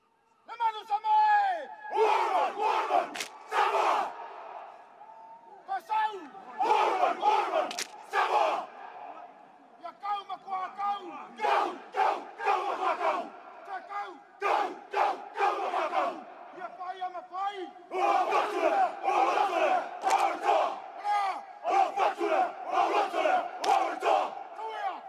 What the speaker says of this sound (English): the Samoan team respond with the Siva Tau